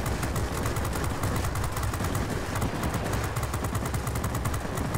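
Rapid, continuous gunfire from the J 21RB fighter plane's guns in World of Warplanes, a dense rattling burst sustained at steady loudness throughout, with no voices.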